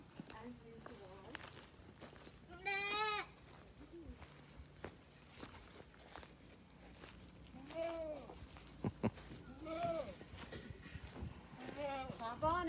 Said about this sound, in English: Baby goats are mad that we're walking in.